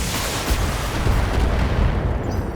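Mech weapons fire at an enemy in the Battletech video game, heard as a dense, continuous roar of booming blasts and explosions. It stays loud and sustained throughout and then fades slightly at the end.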